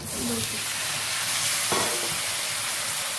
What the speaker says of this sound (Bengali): এবার মুখ ছেড়ে রাখা কাঁচা লঙ্কা 5-6টা দিয়ে দেবো